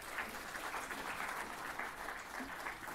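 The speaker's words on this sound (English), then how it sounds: "A good round of applause for Dr. Sri Bharadwaj." Audience applause for a speaker at a Central Electricity Authority session, a steady, dense round of clapping lasting throughout at moderate level with no talk over it.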